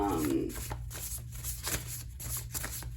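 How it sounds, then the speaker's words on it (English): A handmade astrology card deck being shuffled, giving a run of rapid papery riffles and soft flicks, close and steady over low background hum. "my astrology card deck, which is also handmade and does not shuffle as well as I would like"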